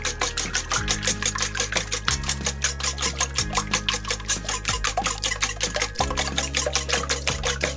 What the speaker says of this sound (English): Add the coconut milk, and you just want to give that a good whisk.